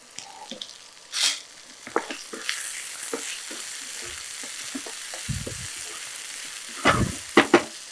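Onions sauté in a pan for a chicken and potato curry, giving a low, steady sizzle. A spatula scrapes and clinks against the pan at intervals, with a few sharper knocks near the end. No one speaks.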